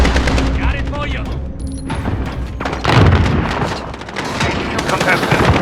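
Rapid bursts of gunfire from Call of Duty Modern Warfare, a first-person shooter match, loud and continuous with heavy reports and booms layered over game sounds.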